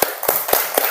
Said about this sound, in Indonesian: tepuk tangan untuk Ela